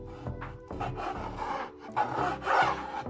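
Knife slicing raw chicken into strips on a wooden cutting board, a close series of rasping, scraping strokes that build in loudness, with no talk.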